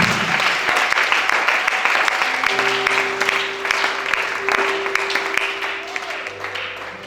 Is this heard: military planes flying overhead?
no